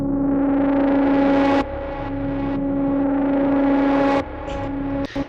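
Monark synthesizer preset from Native Instruments Komplete 9, a loud sustained distorted tone with steady held pitches, changing texture in a few sections and stopping abruptly near the end, with no talking.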